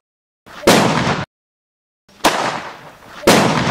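Firecracker bombs go off in a village setting, three sharp close loud blasts each followed by a brief crackling decay, separated by short silent gaps.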